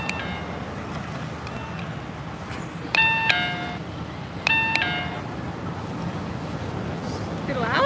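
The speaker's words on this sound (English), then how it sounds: "Listen, world, as I show you the sound of Japanese doorbells." An electronic shop entrance door chime in Akihabara, Tokyo, rings twice, a few seconds apart, over a steady background hum with people talking nearby.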